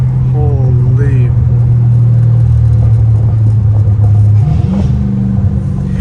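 A loud, deep catless exhaust rumble from a Dodge Challenger Hellcat Redeye engine, its pitch dropping and rising as it downshifts through low gears in a tight neighborhood, with a voice over it near the start.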